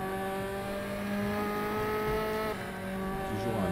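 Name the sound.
F4 Tatuus race car accelerating in the video game RaceRoom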